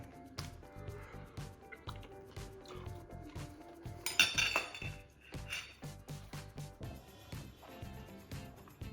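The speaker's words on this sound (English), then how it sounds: "that knife just goes through that like butter" A knife cuts through dukkah-crusted sous vide lamb backstrap on a plate, with quiet intermittent clinks and scrapes of cutlery on crockery and a brief brighter clatter midway.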